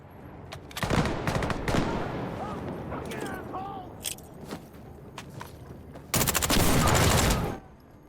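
Bursts of gunfire in the video game Insurgency Sandstorm: sharp single shots and a short volley early, scattered cracks through the middle, then a loud sustained burst of automatic fire near the end.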